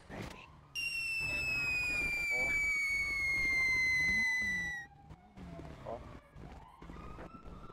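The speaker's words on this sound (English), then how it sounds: "Popping a firework." A firework in a video game roleplay lets out a long, loud descending whistle, then crackles and pops as the sound fades, with faint game ambience and voices around it.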